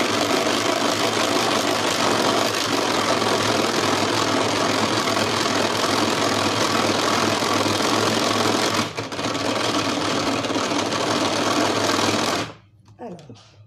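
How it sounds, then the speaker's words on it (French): An electric mixer whipping egg whites for a marble cake, a loud continuous motor whir that runs steadily, dips briefly, then stops near the end. "simplement mélanger pour que mes blancs montent en neige"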